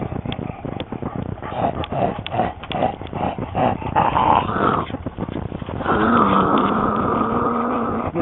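Dogs growling while playing at a lake, close snarls and rough grumbles with yips and panting, steady and fairly loud, turning into a longer sustained growl toward the end.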